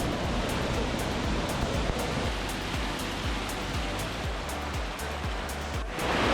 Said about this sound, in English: You can actually walk on the waterfall